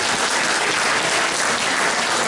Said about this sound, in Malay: Berikan tepukan kepada diri anda.